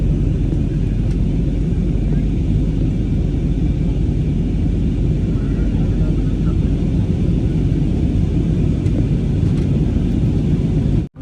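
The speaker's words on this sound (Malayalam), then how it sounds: "ഫ്ലൈറ്റ് ഇപ്പം നല്ല രീതിയിൽ തിരിക്കുന്നത്." Steady low engine roar inside a passenger airliner turning after takeoff on a flight from Ayodhya to Delhi, a constant loud cabin rumble throughout.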